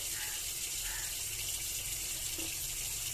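Tap water runs steadily and close while Tengra fish are rinsed clean in a sink, a continuous hiss with a few faint clinks and no speech.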